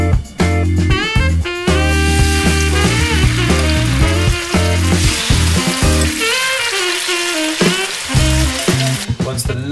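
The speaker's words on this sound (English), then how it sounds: "let's fish them out and get them straight into the frying pan" Marinated chicken satay pieces sizzle in a frying pan on a hob, a steady, close crackle that continues without a break for about ten seconds.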